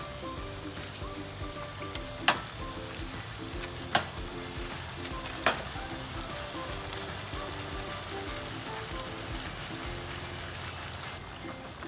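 Shrimp fry in a pan for a shrimp Alfredo pasta, giving a continuous hiss and crackle of sizzling oil at moderate level, broken by three sharp utensil clicks early on and a fainter one near the end.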